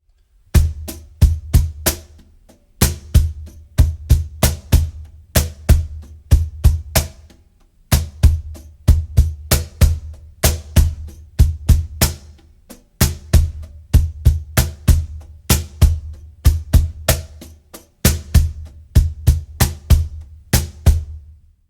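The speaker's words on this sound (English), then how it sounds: "Just to give you an idea of what is possible when you use paradiddles on the cajon" A cajon paradiddle groove of fast, steady hand strokes mixing deep bass thumps and crisp slaps, played continuously with brief pauses between phrases.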